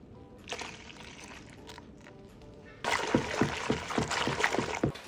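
Heavy cream for strawberry mascarpone ice cream is poured into a bowl, first as a quiet trickle and then as a louder, continuous splashing stream over the last couple of seconds.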